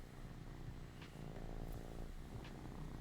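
Right against the mic in a stable interior, a cat purrs in a steady low rumble while rubbing its face on the microphone, with a few soft scuffing brushes and no speech.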